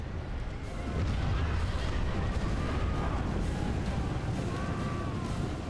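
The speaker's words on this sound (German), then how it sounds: "So, feuern wir die einfach mal weg. Das ist unsere letzte Chance, hier überhaupt zu gewinnen, mit den Kanonen." Cannons firing in a Medieval 2 Total War battle, a dense rumbling barrage of booms and crackling blasts rolling continuously at moderate loudness.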